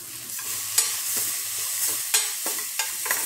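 Softened tomatoes being sautéed in a pan for a whole green moong usal, with a steady low sizzle broken by several sharp scraping clinks as a spoon stirs them, close and alone.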